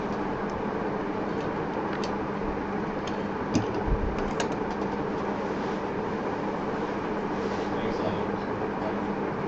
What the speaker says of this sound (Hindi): अब इसको हम सिलना शुरू करते हैं।